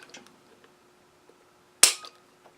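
A dry-fire trigger pull on a CZ P-10C striker-fired pistol fitted with a trigger pull gauge gives one sharp, close mechanical click in a quiet room, preceded by faint handling rustles.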